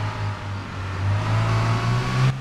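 A car engine revs in the ArmA III video game, a loud sustained motor drone that rises and holds its pitch before cutting off abruptly at the end, with no talking.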